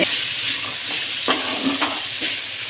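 Ginger and garlic sautéing in a pan for a traditional thuvaiyal, giving a steady loud sizzle with a few sharp scraping stirs of a utensil against the pan, and no voices.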